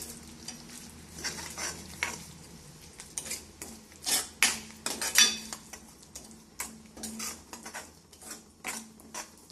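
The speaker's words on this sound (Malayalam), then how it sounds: "നല്ലതുപോലെ മിക്സ് ആകട്ടെ." A spoon stirs ginger curry in a pan over low flame, making repeated scraping clinks against the metal over a soft sizzle, with uneven strokes close to the listener.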